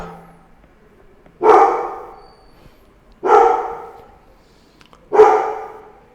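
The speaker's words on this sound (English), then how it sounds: "Pardon if you are able to listen the dogs barks." Three loud, evenly spaced dog barks ring out about two seconds apart, each sharp and fairly close, with quiet gaps in between and no speech.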